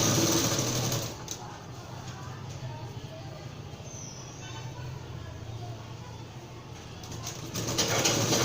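A sewing machine stitches thread piping along a straight neckline, humming continuously at moderate volume with brief bursts of faster stitching at the start and end. Birds coo faintly in the background.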